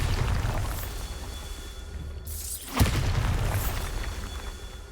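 The Bombardus spell going off in the Hogwarts Legacy game: a brief rising whoosh, then a single deep boom over continuous background game ambience.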